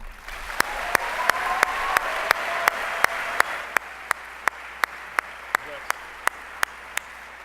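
Audience applause at a Lee University chapel award ceremony honoring recipient Corey Vance, heard as steady, evenly spaced sharp claps ringing out over a low room hum.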